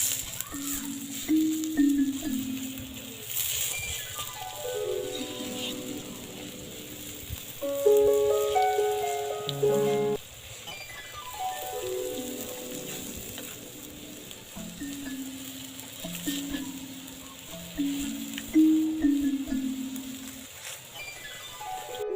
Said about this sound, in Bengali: এইভাবেই উল্টো পিঠটাও ভেজে নেব ধীরে ধীরে